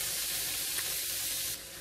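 Seasoned ackee and salted cod mixture stirred in a sizzling pan, a brief steady hiss and crackle that drops slightly near the end. No one speaks.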